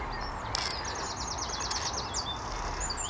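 Birds sing and chirp along a canal path, a run of quick high twittering phrases over steady outdoor ambience, moderately distant.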